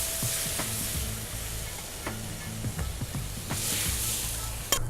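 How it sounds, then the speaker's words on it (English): Clam juice goes into a hot wok of stir-frying clams with homemade black bean sauce, giving a steady loud sizzle with a few sharp clinks of shells and utensil taps. "So the next step is we gotta add the clam juice."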